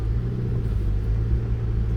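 A 2022 Toyota RAV4 Hybrid drives across the sand dunes at Oceano Beach, with a steady low engine and road rumble heard from close up and no voices.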